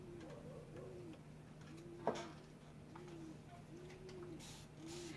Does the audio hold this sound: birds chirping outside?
yes